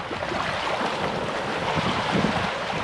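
Ocean waves wash onto a Hawaiian beach, a continuous broadband surf rush mixed with wind buffeting the microphone, steady and fairly loud throughout.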